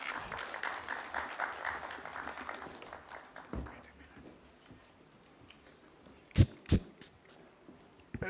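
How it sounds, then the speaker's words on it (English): An audience claps after a conference presentation. The applause is moderate and fades over the first few seconds, then a few sharp knocks sound close by. "Carol, we are clapping up to when you step down"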